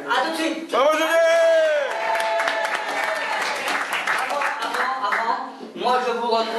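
An audience applauds and cheers at a French live stage show, a dense, loud wash of clapping mixed with sustained singing or music and voices, dipping briefly near the end before swelling again.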